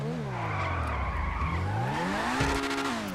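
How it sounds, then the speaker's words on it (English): A car in GTA Online skids with squealing tires while its engine revs up and down in a wavering, sweeping tone, loud and near throughout without any voices. "This is one of the best sounding cars in the game"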